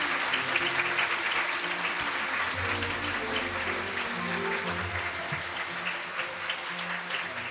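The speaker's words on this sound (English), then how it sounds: "Please give another great round of applause to Mr. Chung of the IPYG." Audience applause after a lecture on peaceful unification of the Korean Peninsula, a steady sustained clapping from a seated crowd with faint murmurs and some low sounds running underneath.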